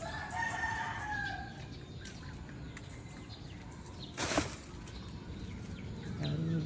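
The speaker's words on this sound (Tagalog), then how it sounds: "Uy, may mga manok." Free-roaming chickens in the garden grounds of a resort in Antipolo on an early morning: distant clucks and a rooster crowing, faint under outdoor ambience.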